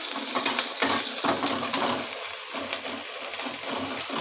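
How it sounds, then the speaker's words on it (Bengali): Onions frying in a pan with whole green chilies nearby, a steady close sizzle with occasional scraping stir clicks throughout. "পেঁয়াজটাকে আমার লাল লাল করে ভেজে নিতে হবে বন্ধুরা"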